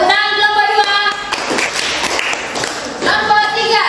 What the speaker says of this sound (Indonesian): silakan tepuk tangan kelompok